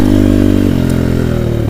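An Avantis 150 pit bike and a Cobra Crossfire 125 motorcycle ride through a village, the engine droning loud and close with a steady buzzing pulse that shifts pitch as the rider changes gear.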